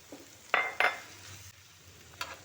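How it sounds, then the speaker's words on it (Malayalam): Chopped capsicum stirred in a pan with spices, two quick scraping strokes close together and a later lighter scrape over a faint low sizzle, close by and fairly quiet. "അരിഞ്ഞു വെച്ച ക്യാപ്സിക്കവും ഇട്ട് ഒന്നുകൂടി ഇളക്കി"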